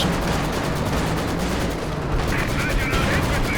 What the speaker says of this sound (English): The light artillery barrage clearing off the Allies from the centre